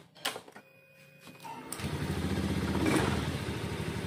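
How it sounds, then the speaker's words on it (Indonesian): A Honda Scoopy FI scooter engine turns over after an ignition coil wire repair, with a few clicks followed by a steadily rising idle that grows louder and settles into a continuous close buzz. "sekarang kita coba nyalakan motornya dulu"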